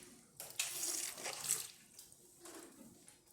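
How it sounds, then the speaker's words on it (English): Hot water runs from a Rocket Cellini espresso machine and splashes softly in a short, uneven stream, fairly quiet and close, with no talking. "hot water"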